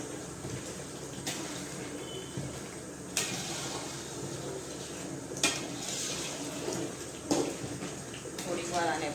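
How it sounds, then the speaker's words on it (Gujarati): Pav bhaji masala is stirred into green pav bhaji in a pan, with a steady soft sizzle under repeated spoon scrapes and several sharp clanks against the metal, while a voice talks over it. "પાવભાજી મસાલો નાખશું આપણે. મિક્સ કરશું બધું."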